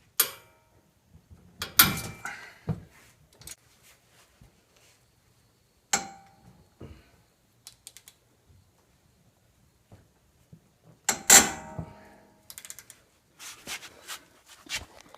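Scattered metallic clanks and clicks as 19mm brake caliper bracket bolts are taken out with a socket on a 2008-2013 Nissan Rogue front brake job, sharp and close, with quiet gaps between.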